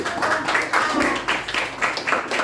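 Elementary schoolchildren in a classroom clap their hands together in short, rhythmic bursts, moderately loud and close, with faint voices mixed in.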